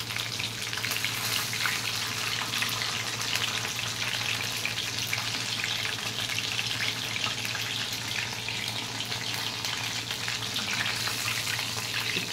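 Chicken lollipops deep-frying in hot oil, a dense continuous crackling sizzle with a low steady hum underneath, loud and close with no talking.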